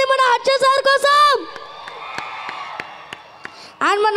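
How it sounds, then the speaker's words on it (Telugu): An audience at a movie pre-release event claps and cheers for the actor Harsha, scattered sharp claps and crowd noise in a short pause between stretches of a person speaking. "ఒక్కసారి క్లాప్స్ కొట్టండి మన హర్ష సార్ కోసం"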